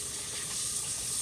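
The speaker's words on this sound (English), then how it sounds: "You can hear the water in the background." Running tap water at a sink, a steady close hiss of flowing water with no speech.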